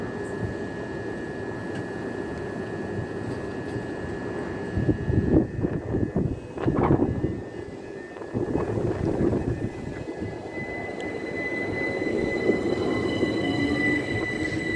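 Class 375 electric multiple unit 375 917 at Sandling station, a steady rumble of the train with a louder burst of wheel and body noise midway, then continuous rolling sound.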